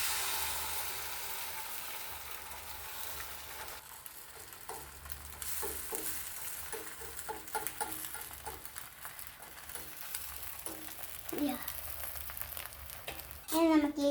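Egg omelette batter poured into hot oil, a sustained crackling sizzle with utensil scrapes and taps over it, close and steady, with a louder burst near the end.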